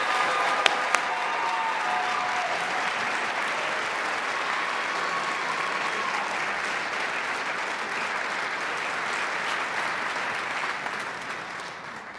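Sustained, full applause from a concert audience for the finalists of an opera arias competition, a dense even wash of clapping that holds steady for over twelve seconds with a couple of sharp hits early on.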